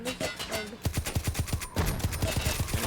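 Pistol gunfire in the shooter game Hired Ops: a quick, regular string of sharp shots, then a brief gap and another rapid burst, loud and close.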